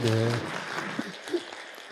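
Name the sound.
congregation applause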